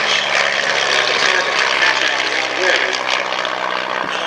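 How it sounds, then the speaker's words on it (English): A Gentleman's Aerial Carriage aircraft flies at an airshow, its steady propeller-engine drone loud and continuous, with a spoken commentary voice running over it. "the aircraft flying with it is a gentleman's aerial carriage"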